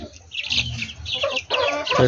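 Two hill chickens clucking close by in short, repeated bursts, with bird chirps and some faint background noise.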